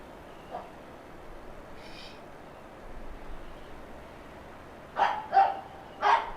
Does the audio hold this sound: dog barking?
yes